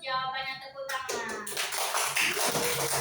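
A school class claps hands together after group work, a burst of uneven clapping and shuffling rising after a brief sung or voiced phrase, close and fairly loud in a classroom.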